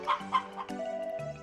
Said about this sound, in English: now we are passing through the poultry farm